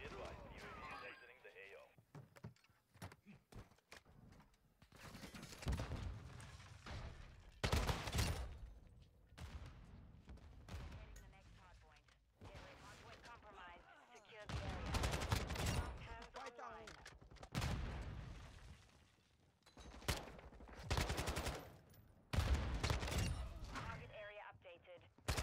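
Kastov 545 assault rifle fire in Call of Duty Modern Warfare II multiplayer, with repeated bursts of automatic gunshots separated by short pauses, loud and close, over game sounds and a voice speaking.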